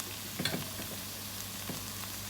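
Zucchini and eggplant pieces sauté in a pan for a vegetable casserole, giving a soft, steady sizzle with a couple of brief clatters as they land.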